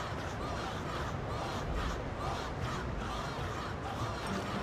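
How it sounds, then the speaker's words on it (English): A stadium crowd cheering at a blitzball match in Final Fantasy X, a dense, steady roar of many voices that stays continuous and fairly loud throughout with no single voice standing out. "The crowd is going wild."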